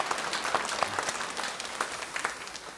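Steady applause from a church congregation welcoming a missionary pastor's family during a Sunday worship service, moderate and continuous clapping throughout with no talk over it.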